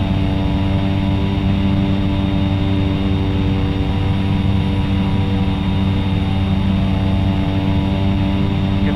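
A bush plane's propeller engine drones at full power as it climbs in the X-Plane 11 flight simulator over Alaska, a loud, steady, unbroken roar throughout.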